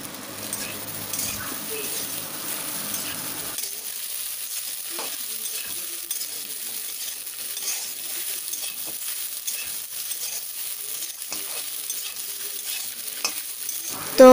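Pasta fried in a pan with Maggi masala: a soft, steady sizzle with light stirring scrapes. A low rumble at the start fades out after a few seconds, and a sharp knock comes at the very end.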